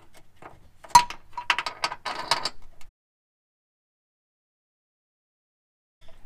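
A bolt is pushed through the frame during installation of a Curt 11356 trailer hitch on a 2014 Mazda 6, making a burst of close metallic clicks, scrapes and rattles for about two seconds, then near silence.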